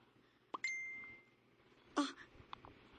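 A short phone notification chime rings out once in a quiet room, a clear bright ding with a brief trailing tone, followed by soft rustles and small clicks.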